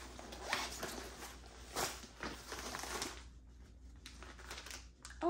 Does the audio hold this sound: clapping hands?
no